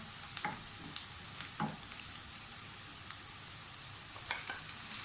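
Grated tomato hits hot frying spices for a cabbage dish, giving a faint, steady sizzle with a few soft stirring scrapes and taps early on, quiet and close with no talking.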